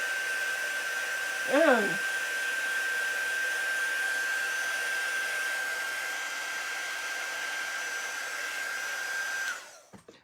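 A hair dryer runs steadily at close range with a constant high whine and airy rush, a brief exclamation near the start, then it switches off and stops.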